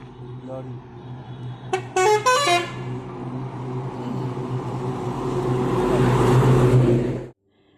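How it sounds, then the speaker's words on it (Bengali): A lorry passes along a road close by, sounding its horn in a few rapid, loud honks before the engine rumble swells and then cuts off abruptly, with talk in the background. "লরি আসছে"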